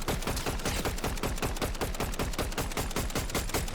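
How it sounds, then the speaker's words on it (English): Rapid automatic gunfire in Fortnite Zero Build, a dense, continuous burst of shots at an even fast rhythm lasting several seconds, loud and alone. "Someone else just shot at him from this bush."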